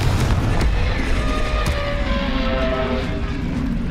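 A Confringo blasting spell is cast in the Hogwarts Legacy video game, giving a loud, rumbling explosive burst with crackling debris that holds steady across the moment.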